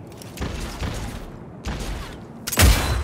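Gunfire rings out in the video game Cyberpunk 2077 during a fight where enemies are dropped with headshots: three separate bursts of shots, the last one loudest and sharpest, with no talk over them.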